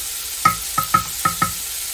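Utensil stirring turkey dumpling soup ingredients in a pan as they sauté, five distinct scraping knocks at an uneven rhythm over a steady background hiss, close and moderately loud.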